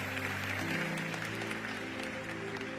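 Audience applause at a church gathering, a soft continuous patter of many hands clapping under a sustained musical drone, fairly quiet and somewhat distant.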